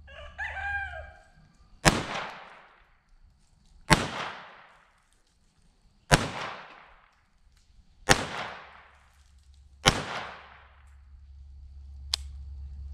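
A Ruger Mark II or Browning Buck Mark pistol fires five sharp, loud shots about two seconds apart, each with a ringing decay, then a faint final click. A rooster crows at the start.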